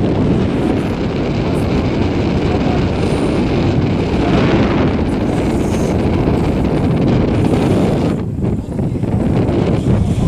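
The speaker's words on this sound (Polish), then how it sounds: "fantastycznie, ale wieje, ręce zgrabiałe" Strong wind roars steadily across a mountain slope near Zakopane, buffeting the microphone with a loud, unbroken rush for the whole stretch and dipping only briefly near the end.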